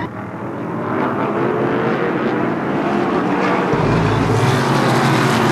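Short track race cars roar out of a corner three wide, a loud, dense blend of engines building and droning, with a deeper rumble surging near the end.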